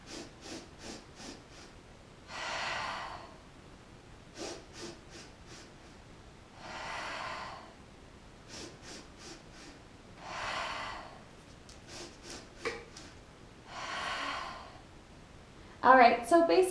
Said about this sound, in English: So piston inhales and slow exhales